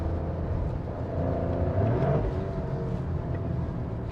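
Sports car in Corsa mode pushing hard on a track, a steady loud engine roar with a rising pitch as it accelerates, no voices.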